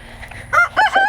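A rooster on a farm crows once, short and close, a loud, bright call in two bursts with faint clucking just before.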